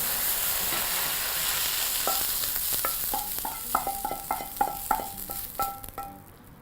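Spinach frying in a pan under a steady hiss, with a run of light clinking taps from a utensil stirring and scraping as it goes on.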